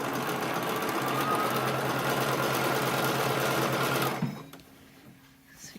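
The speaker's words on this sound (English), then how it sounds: "I'm stitching about 1/4 inch from the edge. I'm using my 1/4 inch foot to help me with that." A sewing machine runs a steady, rapid, loud stitching whir along a denim shirt seam with a quarter-inch presser foot for about four seconds, then stops abruptly, leaving faint handling sounds.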